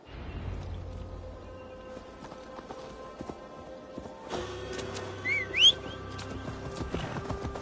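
A horse gallops through an untamed forest in Assassin's Creed Valhalla, with steady hoof clip-clop, a brief whinny and whistling sounds over ambient game noise.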